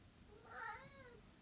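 Pet cat meowing outdoors by a wooden summer house, one short, clear meow rising and falling, close by, over a soft background hum.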